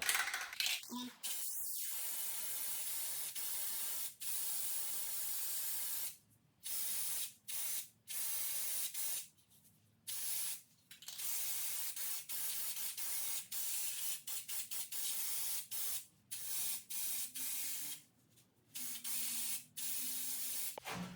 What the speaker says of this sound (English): we're gonna spray this guy all over